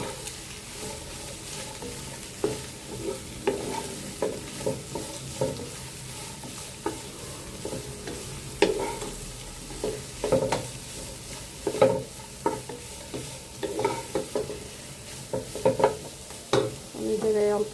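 Chopped carrots frying in a pan, a low steady sizzle broken by repeated scraping and clacking strokes of a utensil stirring them, close and fairly quiet, with no talking.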